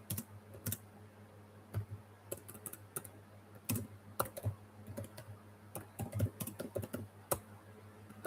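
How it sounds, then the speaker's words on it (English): Close computer keyboard typing, a steady run of irregular key clicks with a few louder taps, with no voices over about eight seconds. "let's type it out"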